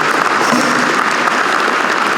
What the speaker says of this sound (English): gentleman a round of applause, please.